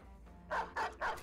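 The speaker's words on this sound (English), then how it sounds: "Unleash a dog." A war dog in Battle Brothers barks three times in quick succession, sharp mid-pitched barks close and fairly loud after a brief quiet moment.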